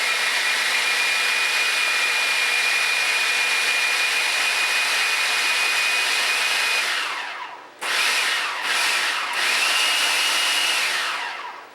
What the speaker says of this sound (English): So I'm just going to let it go, let this go and puree.